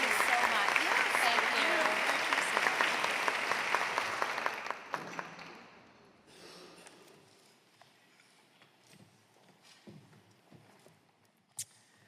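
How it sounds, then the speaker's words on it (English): Audience applause at an equality tea event, loud and dense at first, then thinning into scattered claps and fading out after about five seconds, leaving faint room noise with a few isolated taps. "Let's give Rebecca Price another round of applause."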